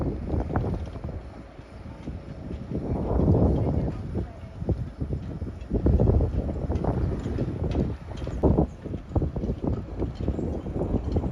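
A Fairline Targa 47 Gran Turismo motor yacht turns into its berth in Yarmouth Harbour on a windy day, with low engine rumble under heavy gusts buffeting the microphone, rising and falling in waves.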